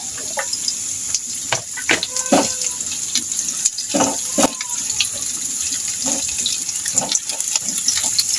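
Garlic and onions sauté in a pan for chicken pork adobo, giving a steady crackling sizzle with scattered sharp pops and clicks throughout.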